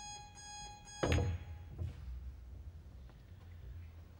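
Electronic beeps sound in a pool hall during a professional pool match: a series of steady tones, followed by a thud as a shot is played and quiet hall ambience.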